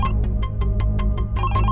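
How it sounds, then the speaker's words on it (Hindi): A mobile phone rings with a repeating electronic ringtone, short bright tone pulses in a quick even rhythm, loud and close with nothing else over it. "ठीक इसी समय हैरी का फोन बजता है"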